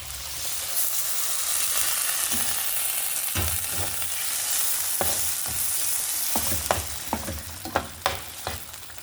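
Beef sauce for cheesy beef spaghetti sizzles in a pan as the beef's boiling water is poured in, a steady frying hiss broken by a run of sharp stirring clicks and scrapes near the end.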